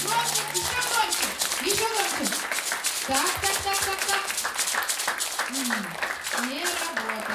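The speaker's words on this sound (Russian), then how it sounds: "Давайте попробуем громко-громко все вместе похлопать, чтобы он проснулся" A group of children clapping together at a jazz kids' African fairy tale show, a steady loud patter of many hands while an adult voice talks and sings over it.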